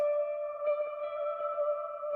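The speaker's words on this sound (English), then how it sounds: "it's the cheap ray gun preset from Echo Boy, and it gives a little bit" An electric guitar loop runs through a cheap ray gun preset on an Echo Boy echo plugin. It holds a steady tone with heavy, wobbly echo and a few faint plucked notes, loud and alone with no voices.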